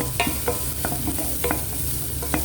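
Sweet and sour sauce for fish fries and browns in a pan, giving a steady sizzle with about six sharp stirring scrapes spaced roughly half a second apart, close and fairly loud.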